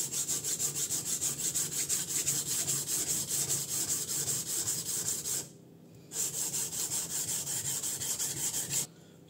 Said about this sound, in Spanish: voy a seguir con la Shapton Glass Stone 120 para ver yo más o menos las diferencias entre la Atoma y la Sharpton en este cuchillo